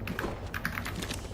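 Rapid computer keyboard typing during a Fortnite Chapter 5 Season 2 game, a steady clatter of close keystrokes over a low background hum, with no talking.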